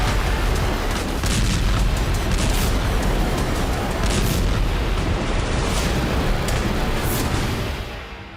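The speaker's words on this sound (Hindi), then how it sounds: "सेवेस्तोपोल आसमान धमाकों से गूंज रहा था।" Loud, continuous barrage of explosions and booms over Sevastopol, heavy low rumbling with repeated sharp blasts layered over each other, fading slightly at the end.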